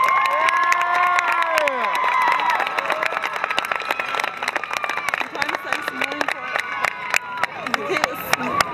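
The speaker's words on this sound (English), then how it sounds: "Ladies and gentlemen, let's have a big round of applause for this year's homecoming tour." At a Catoosa High School homecoming, a crowd cheers and screams loudly with high shouts, then dense clapping carries on to the end.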